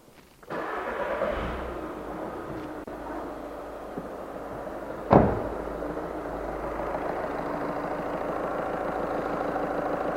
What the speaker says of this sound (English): I'll now start the vehicle up.